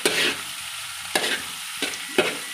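Onions sizzle in a pan over high heat while a utensil stirs them, with four distinct scraping strokes spaced about a second apart over a soft, steady frying hiss.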